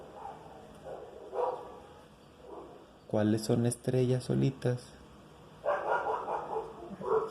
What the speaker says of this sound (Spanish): ¿Por qué está ladrando un perro?